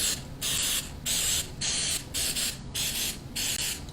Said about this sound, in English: just a little bit of nonstick spray, and I use the coconut spray